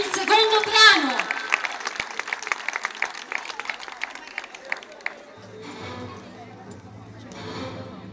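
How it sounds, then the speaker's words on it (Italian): An audience claps for a majorette group at a competition event, a burst of applause with scattered individual claps that gradually thins out, with talk over it at the start and a quieter low hum later. "Bravissime, complimenti, un grandissimo applauso"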